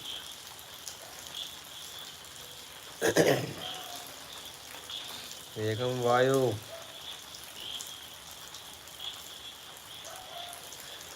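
Heavy monsoon rain pours down in a steady, even hiss throughout, with two brief bursts of voices calling out over it.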